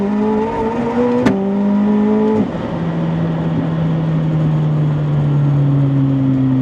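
A Lamborghini pulls hard through second gear, its loud engine tone climbing, then a sharp gear-change crack drops the pitch and it climbs again, steady and close with no talking.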